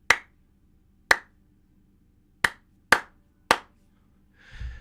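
Five separate hand claps, sharp and close, come at uneven intervals in a quiet room. A low rumble follows at the end.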